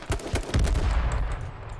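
Gunfire in the H1Z1 video game, a quick burst of close, loud shots followed by a sharp report and ringing decay, with no talk.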